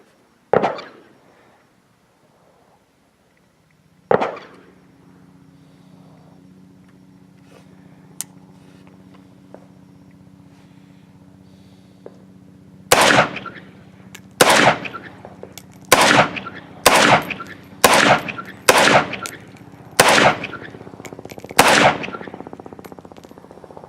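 Century Arms C39v2 rifle fired with a Bakelite magazine at a range: two separated loud shots, then a rapid string of about nine sharp cracks in quick succession, close and loud with echoing tails.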